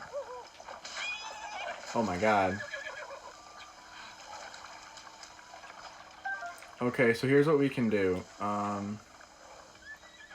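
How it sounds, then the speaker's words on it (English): A horse whinnies in the game Zelda: Breath of the Wild, giving one neigh early on and then several more in a cluster near the end. A person talks quietly at moments in between. "I'm going after this horse."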